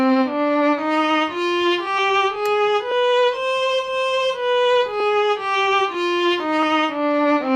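An instrument plays an ascending then descending A harmonic minor scale with an exotic, Middle Eastern flavor, notes evenly paced and clear, with no voices.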